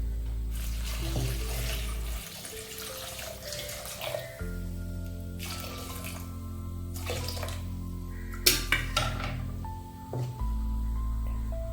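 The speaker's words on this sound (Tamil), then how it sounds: "தேவையான அளவு தண்ணி ஊற்றிக்கலாம்." Water poured into a pot of drumstick sambar with drumsticks and chilli powder while cooking, a steady splashing pour broken by short pauses and a few clinks, with a low hum throughout.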